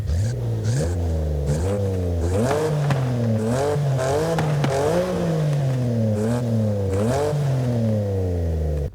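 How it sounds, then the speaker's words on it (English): A BMW M4 engine in the racing game Forza Horizon 5 revs repeatedly, rising and falling through several loud throttle sweeps that fill the whole stretch with no voices. "that's what an M4 sounds like in Forza Horizon 5"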